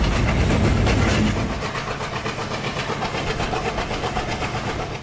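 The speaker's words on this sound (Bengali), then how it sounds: "আমাদেরকে ফেলে রেখেই কপোতাক্ষ এক্সপ্রেস তার গন্তব্যের দিকে চলে গেল।" Kapotaksha Express, with locomotive 6602, pulling away from a busy platform, a near rumble that fades into a rhythmic clickety-clack of wheels over rail joints, steady and moderately loud without speech.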